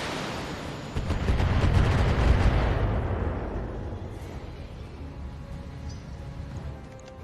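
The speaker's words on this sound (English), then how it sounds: "Here come the missiles. Oh no, they're just outright shooting us now." Missiles and weapons fire slamming into a ship in a BattleTech space battle: a loud rumbling barrage of rapid blasts and impacts that swells, then trails off into a fading low rumble.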